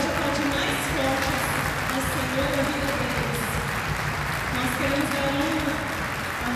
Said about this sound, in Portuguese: Você pode aplaudir mais forte ao Senhor na vida deles.